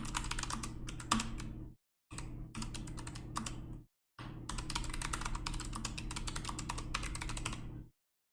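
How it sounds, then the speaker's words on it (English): Rapid keystrokes clatter on a computer keyboard in steady bursts, with two brief pauses between runs of typing, fairly close and moderately loud, no voices. "here I'll type it then"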